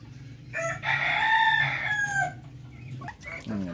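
A Darag native rooster crows loudly nearby, a long drawn-out call, while hens cluck in the background and another short call follows near the end, with no talk.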